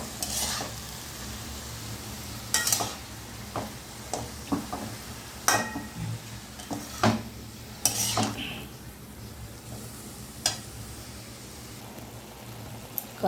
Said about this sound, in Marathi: कांद्याची पात चांगली फ्राय करून घ्यायची मस्त।